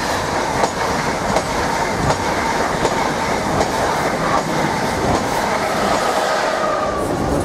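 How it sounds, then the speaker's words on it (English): A Mark 3 passenger train set runs through Needham Market Station toward Norwich, a steady close rumble with regular clickety-clack of wheels over rail joints, loud and unbroken throughout. "we got a Mark 3 set on its way to Norwich"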